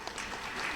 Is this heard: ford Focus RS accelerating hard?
no